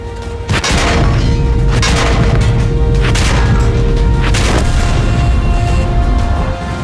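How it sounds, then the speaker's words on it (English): Heavy-damage hit on a tank in World of Tanks: a sudden deep boom opens, followed by several crunching metallic impacts over a dense, loud rumble that persists to the end. "And a great loss of durability sounds like this."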